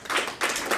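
Audience applause at a Kenya–Indonesia business forum, three close bursts of clapping from many hands, loud and near, with no talk over it.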